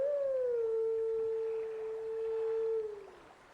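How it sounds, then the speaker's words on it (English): Wolf Link howls in The Legend of Zelda: Twilight Princess, a single sustained, clear tonal howl with faint harmonics that holds steady for about three seconds, then slides down and fades. "we're going to howl, and we're going to call that gigantic bird down"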